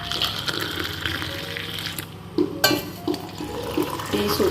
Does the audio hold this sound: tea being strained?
yes